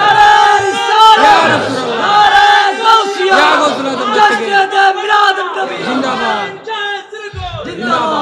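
A large crowd at a Bengali Islamic sermon shouts Allahu Akbar in unison in answer to a takbir call. The loud, massed voices rise and fall in several sustained waves, with brief dips between them.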